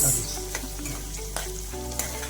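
Drumsticks (munakkaya) frying in a pan for a curry made without masala or ginger-garlic paste, a steady close sizzle with a few stirring knocks along the way.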